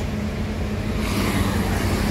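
A yellow bus passes on a road in Palembang, its engine rumble swelling and the broadband roadway noise growing louder halfway through.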